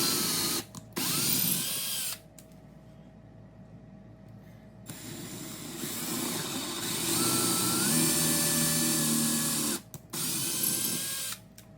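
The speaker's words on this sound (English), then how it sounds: "Now we're drilling some pilot holes." A power drill whirs in steady bursts, drilling pilot holes for a floating table, loud and close, with brief pauses between runs and a pitch that rises as the motor spins up.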